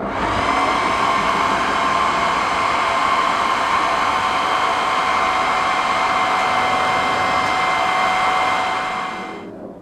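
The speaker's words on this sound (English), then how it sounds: "the old hairdryer is underneath my bench, which I'll take out and just dry off this coat" A hair dryer blows with a steady, loud whooshing whine for nearly ten seconds while drying paint on a miniature, then winds down as it is switched off.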